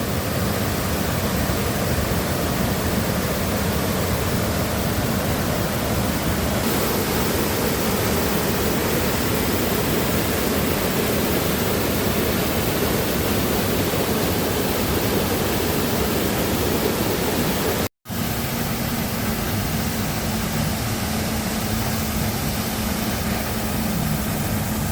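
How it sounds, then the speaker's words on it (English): A waterfall on the West Highland Way between Rowardennan and Ardlui roars as a steady, dense broadband rush, loud and close, with no break except one brief dropout. "A real waterfall."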